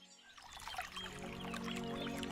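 Water splashes and pours as someone wades into a pond in a cartoon scene, a soft burbling swell that rises and keeps going steadily, fairly quiet.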